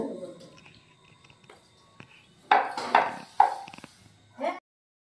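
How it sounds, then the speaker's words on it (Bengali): A kadai is set down on a home stove while rolling suji parathas, a few clanking metal knocks and scrapes of cookware close by, with quieter rustling earlier and a final brief clatter. "আমি কড়াই চাপিয়ে দিয়েছি।"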